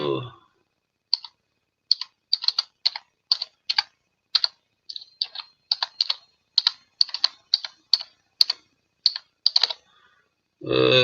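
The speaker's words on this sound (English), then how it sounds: "Quickly type this in before." Fingers typing on a computer keyboard, bursts of crisp close key clicks in an uneven rhythm over near silence, with brief voice at the start and end.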